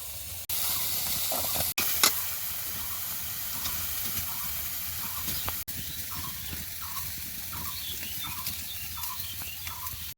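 A steady, hissing sizzle of eggplant frying in a wok runs throughout, with a few sharp clicks and faint bubbling pops over the continuous crackle.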